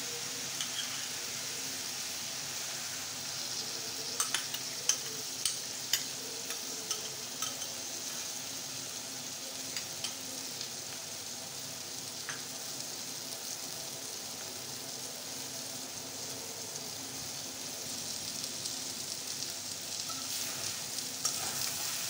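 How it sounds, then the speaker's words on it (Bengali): An egg sizzles steadily as it fries and is stirred in a pan with bitter gourd and tomato, with soft scraping taps from the stirring scattered across the continuous crackle. "ডিমটা দেখেন জমে গেছে। এবার আমি নাড়িয়ে মিলে দিলাম।"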